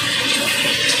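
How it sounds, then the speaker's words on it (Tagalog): Rinse water drains out of a load of laundry in a brief, loud, continuous rushing gush, with no one speaking. "Tinatanggal ko ngayon yung tubig."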